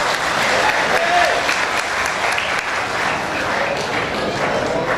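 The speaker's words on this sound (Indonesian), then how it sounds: "Tepuk tangan buat Pak Soeharto." Sustained applause from a crowd at a PDIP party officials' inauguration ceremony in Kediri, steady and loud throughout with dense clapping and no pauses.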